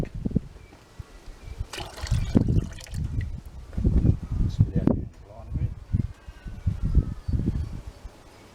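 Gold panning in a creek, water sloshing and trickling in a pan with gritty scraping of black sand, steady swishes close by throughout.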